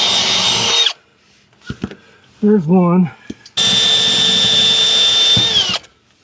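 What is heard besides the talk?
power drill drilling out fasteners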